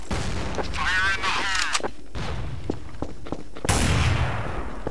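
Counter-Strike: Source match with repeated sharp gunshots and a heavy grenade blast near the end, mixed with a voice talking over the in-game action.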